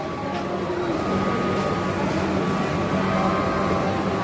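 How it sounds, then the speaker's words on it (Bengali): At a railway station on a run from Malda Town to Kharagpur, a standing train gives a steady low rumble and idling hum, with a faint background murmur around it. "এই সাইডে ট্রেন দাঁড়িয়ে আছে"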